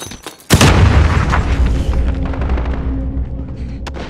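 A flashbang grenade going off in a shooter game, one sudden loud bang after a short quiet gap, then a long ringing, crackling tail that fades over several seconds with a few faint clicks.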